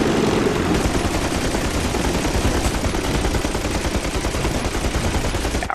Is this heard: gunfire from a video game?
yes